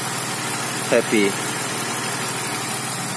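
A 1999 BMW E46 323ci coupe's straight-six engine idles with a steady, low, even hum from close by, interrupted once by a short spoken word.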